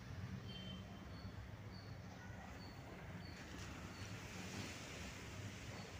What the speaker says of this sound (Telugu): అలలు చాలా విపరీతంగా వస్తున్నాయి.